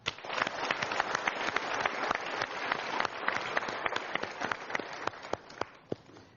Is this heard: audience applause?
yes